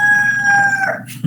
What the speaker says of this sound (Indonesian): Suara ayam masuk.